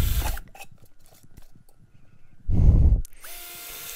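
A power drill boring holes through thin, curved seashells, quiet buzzing bursts followed by one loud, close whine that stops abruptly.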